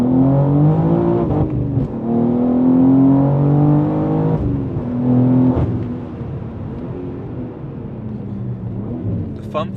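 A BMW M3 G80 with a manual gearbox revs through heel-and-toe downshifts, the engine note rising and falling in several sweeps with a loud interior drone and brief blips, a voice talking over it.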